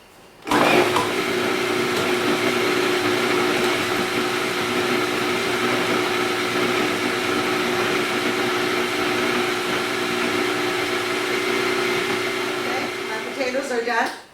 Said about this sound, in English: I'm going to put them through the processor, which will take a minute